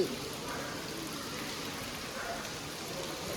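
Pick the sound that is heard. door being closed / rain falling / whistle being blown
rain falling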